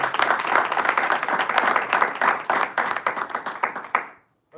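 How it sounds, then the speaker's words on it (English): Audience applause at a Toastmasters club meeting in Dubai: steady, dense clapping from a room of members that holds for about four seconds, then thins out and stops. "Applause, everyone."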